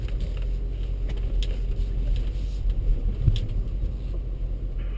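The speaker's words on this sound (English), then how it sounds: "Next vehicle, you can come on down." BMW X5 rolling down a driving course at the BMW Performance Center, a steady low engine and road rumble passing at moderate distance with wind buffeting, no talk.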